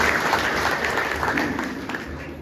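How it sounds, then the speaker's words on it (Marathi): Audience applause fills a public hall at an inauguration gathering in Achalpur, Maharashtra: a dense, steady wash of many hands clapping at once, close and sustained throughout with no pause. "त्यांचा एकदा आपण सगळ्यांनी टाळ्या वाजून आभार"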